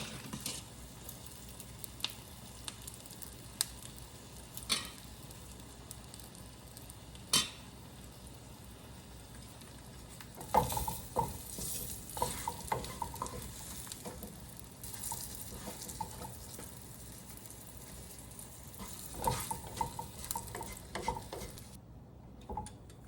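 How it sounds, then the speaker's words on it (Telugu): Green chillies frying in a pan, giving a continuous low sizzle with intermittent crackles and spatula scrapes, growing busier midway. "ఇప్పుడు ఇంకో మూడు కాయలు ఉన్నాయి ఈ మూడు కాయలు కూడా వేయించేద్దాం"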